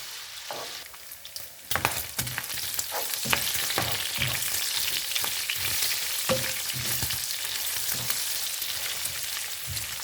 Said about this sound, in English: slow cook the bacon until it's almost well done.